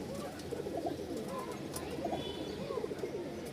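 Domestic pigeons in a Rajshahi fancier's loft coo in soft, rolling repeated phrases, close by, with faint background chatter and noise.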